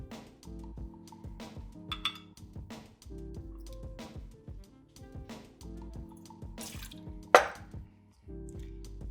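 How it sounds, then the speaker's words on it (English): Gold Puerto Rican rum, Bacardi Ocho, is poured into a drink mixer: soft drips and a short liquid pour mix with clinks of glass and utensils, close and fairly quiet, with a louder clink near the end. "And then we're gonna do 1 ounce of gold Puerto Rican rum."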